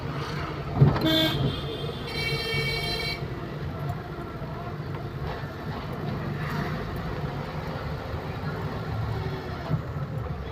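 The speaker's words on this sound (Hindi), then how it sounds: "ऐसे हॉर्न दीजिए इन लोगों को" A car horn toots briefly a couple of times early on, from a car being driven on a road during a driving lesson, amid steady traffic and engine rumble.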